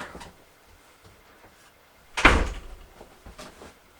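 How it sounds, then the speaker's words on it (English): An indoor door shuts with a single solid thud partway through, followed by a few faint knocks and rustles in an otherwise quiet room. "I better close this door."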